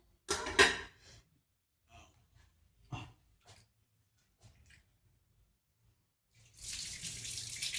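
Tap water runs into a vessel while rice is rinsed for dal rice, a short splashy burst at first, then quiet handling noises, before a steady, louder stream of pouring water returns at the end.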